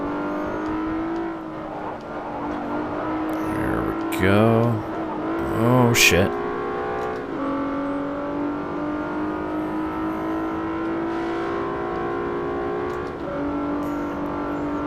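Race car engines drone at the start of a race in Forza Motorsport 4 as the grid launches, a sustained rising whine with brief revving surges and tire noise, while someone talks over it.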